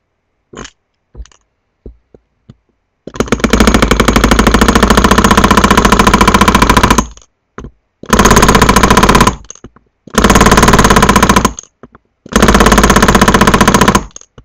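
A steel chisel hammered on hot metal while forging leaves, heard as rapid, loud, continuous metallic striking in four long bursts with short gaps, preceded by a few isolated taps.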